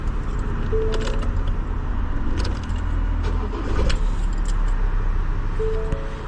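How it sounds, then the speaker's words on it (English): A 2022 Ford Transit van engine cranks and starts, then idles steadily at a close, fairly loud level, with a light jingle of keys near the start. "if I turn the car on now, it turns on as normal."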